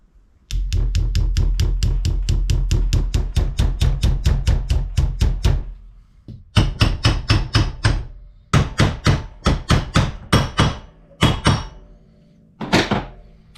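A wheel bearing seal is tapped into a spindle with a punch, heard as a fast, even series of sharp metallic taps, then a pause and slower, spaced, heavier strikes, all close and loud with no talk.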